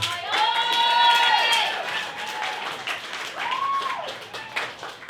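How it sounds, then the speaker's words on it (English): An audience at a comedy event claps for the organizer. The applause swells quickly, peaks in the first seconds and then thins, with a few whooping voices rising above it. "let's have a round of applause for Aaron for putting this incredible event together"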